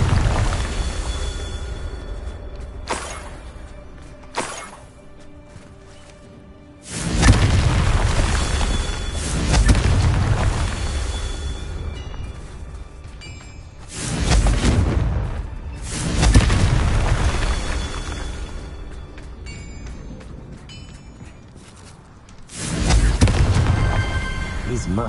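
Confringo explosion spells from Hogwarts Legacy go off as several deep, booming blasts spread across the stretch, each swelling loud and rumbling before fading back into quieter game ambience.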